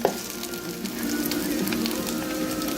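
An egg frying in a pan for breakfast, a close, steady crackling sizzle that carries on continuously without talk, with a small pop at the very start.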